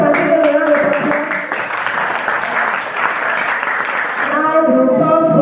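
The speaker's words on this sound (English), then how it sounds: "Please, can we start a particular round of applause?" A round of applause rises from the audience at a school debate on traditional African attire versus Western uniforms, a dense, sustained clapping that begins and ends under a speaker's voice.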